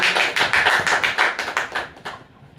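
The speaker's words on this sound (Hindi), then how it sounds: "हमारे प्रभु यीशु मसीह के लिए एक बार जोरदार तालियां बजाएंगे" A congregation at a Sunday online church meeting gives loud applause for Jesus, a dense burst of clapping that fades out near the end.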